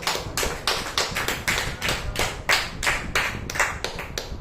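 Close, loud claps from a church congregation during a sermon, about a dozen sharp strikes in an uneven rhythm, with no talk over them.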